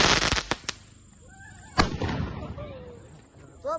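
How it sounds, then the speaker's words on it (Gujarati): Diwali firecrackers burst in a string of sharp cracks, several loud pops up front and another strong bang midway, with crackling and fizzing between and a faint voice in the background. "આ તો પેલે શું કહેવાય, ફૂલ જડી થાય ને એવું થાય, અને દેશી ભાષામાં કહો તો તતડીએ મિત્રો"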